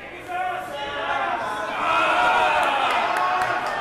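Crowd cheering at a Birmingham Hardcore Wrestling show, Massacre on Morris Ave, as a dense roar fills the hall and swells louder past the midpoint, with voices mixed in.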